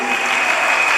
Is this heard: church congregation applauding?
yes